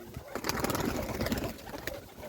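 Pigeons coo in a village dovecote, among them a high-flying breed and a black-headed bird, their soft calls layered with rustling and shuffling close by for a couple of seconds.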